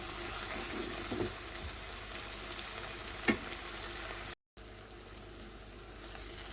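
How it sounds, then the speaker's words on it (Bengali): Eggplant fries with spice masala in a pan, a continuous sizzle with stirring scrapes and one sharp knock, briefly cutting out before the frying resumes. "মশলা দিয়ে ভালো করে কষিয়ে নেব।"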